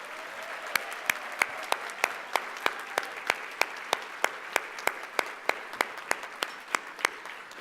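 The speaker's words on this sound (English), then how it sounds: "let's give them all another raucous round of applause" Applause from an audience at a conference luncheon honoring scholarship students, a steady wash of clapping punctuated by sharp, regularly spaced claps close to the microphone.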